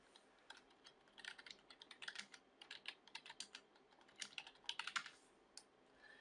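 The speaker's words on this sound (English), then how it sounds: "It's also quite a nice, quiet keyboard to actually type on" Quick typing on a Logitech G510s gaming keyboard gives soft, quiet clicks in irregular bursts, close up and alone, with a denser flurry of keystrokes near the end.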